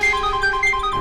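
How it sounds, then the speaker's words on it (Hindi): A phone ringtone plays a quick repeating electronic melody over a steady tone, loud and close, with no voices. "फोन अभी भी बज रहा है।"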